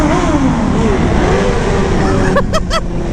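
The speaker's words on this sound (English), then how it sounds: "Ooh, an inline 4." An inline-four motorcycle being ridden through a tunnel, its engine a steady, loud drone with rising and falling pitch, a few short sharp tones near the end, and a rider's voice over it.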